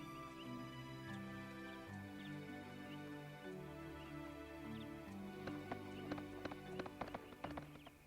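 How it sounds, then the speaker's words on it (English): Horse hooves galloping in the PS2 role-playing game Suikoden III, a steady clip-clop under game music, with sharper hoofbeats growing clearer toward the end. "Keep on riding that horse, Chris"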